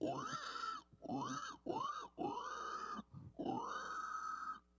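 Pig squeal, a metal vocal technique in which a singer imitates a pig, delivered as five sustained, harsh squealing bursts separated by short breaths, loud and close with no other sound.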